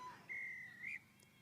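Referee's whistle at a women's rugby match, a single steady shrill blast of about 0.7 seconds rising slightly at the end, moderately loud over faint field ambience.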